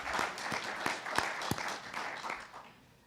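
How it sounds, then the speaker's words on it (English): Candidates' forum audience in Long Beach applauding the introduced school board candidates, a short burst of many hands with a few sharp individual claps standing out before it tapers off. "Let's applaud."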